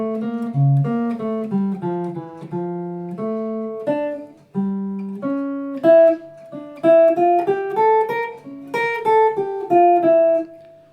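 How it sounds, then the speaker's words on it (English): Opening bars of J.S. Bach's Invention No. 4 on a keyboard, two interweaving lines of quick running notes in a steady, flowing rhythm, close and clear, played alone without talk. "what you just heard there was the first couple of bars of Invention number 4 by J.S."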